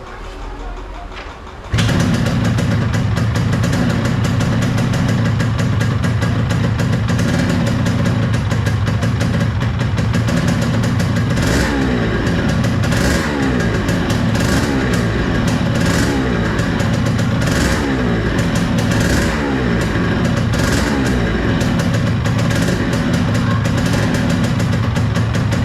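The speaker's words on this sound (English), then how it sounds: "let me restart the bike" A 1997 Yamaha RXG motorcycle with a poor idle starts up and runs, its engine idling roughly and revving repeatedly, loud and close, for over twenty seconds.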